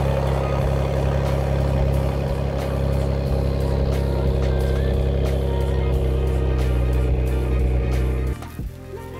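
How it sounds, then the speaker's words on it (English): A Kia Stinger's engine runs at a steady, loud idle while the car is moved up a driveway, a constant low drone that drops away abruptly near the end. "Let's move the car up to the driveway so we could get to working on it."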